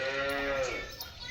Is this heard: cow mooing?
yes